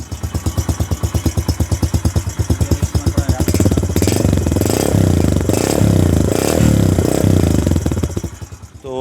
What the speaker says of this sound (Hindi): अब साउंड की तरफ, ये इसका जो है ये आइडल में साउंड है।